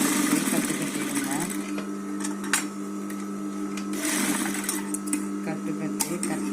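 A sewing machine stitches a cloth bag in a fast, even whirring run that pauses and restarts, with a person talking over it.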